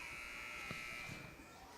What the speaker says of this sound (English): There's the buzzer, ladies and gentlemen